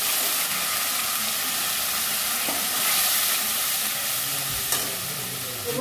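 Chopped onion, ginger-garlic-chili paste, cumin and coriander frying in a pan, a steady close sizzle and hiss with occasional stirring scrapes, no talking.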